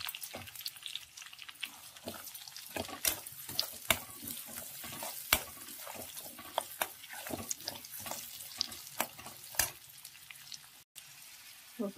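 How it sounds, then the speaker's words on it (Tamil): Green peas with onions sautéing in oil for mattar paneer, a faint crackling sizzle with many sharp clicks and pops from stirring, quiet and close. "அதனால் பட்டாணி போட்டு வதக்கிடலாம்."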